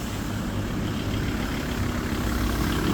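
A Volkswagen LT van engine idles with a steady low rumble and even mechanical hum, close by and unchanging, with no voices.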